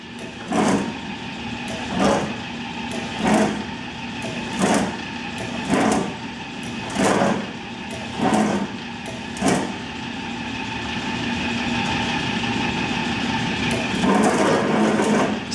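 A reconditioned 1968 Rousselle mechanical press cycles in inch mode, giving about eight evenly spaced mechanical thumps against a steady machine hum, then a longer continuous run.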